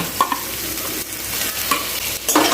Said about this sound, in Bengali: বেগুনটা দিয়ে একটু ভালোভাবে আমি বেগুনের সাথে মশলাটাকে নাড়িয়ে চাড়িয়ে দিলাম